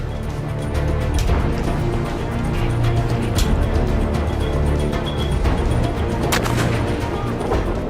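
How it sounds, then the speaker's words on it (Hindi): Gunfire and explosions at a Hamas training ground where IEDs and mines are set off: loud, harsh bursts of shots and heavy booms crowd close together over a rough, roaring outdoor background. "ट्रेनिंग ग्राउंड में ये आईडी लगाते हैं, माइंस बिछाते हैं, हथियार लेकर पहुंचते हैं और फिर जोरदार धमाका करते हैं।"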